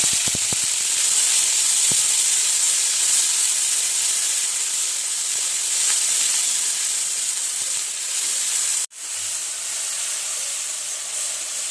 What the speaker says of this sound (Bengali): জিরে ফোড়ন দিল দুটো তিনটে শুকনো লঙ্কা ফোড়ন দিল টমেটোটা দিয়ে দিলে